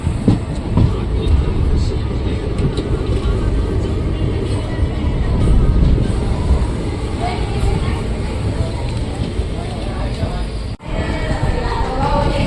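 A crowded passenger train on the Junagadh to Lathi run rumbles loudly and steadily from inside the carriage, with a brief dip in the noise near the end.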